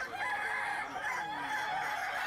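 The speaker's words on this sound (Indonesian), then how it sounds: "Perlombaan adu ketangkasan kokok ayam ini digelar" Kukuak Balenggek roosters, a breed native to West Sumatra, crow at a crowing contest in Padang, one long drawn-out crow rising and falling in loud, continuous, close-up phrasing against a busy background.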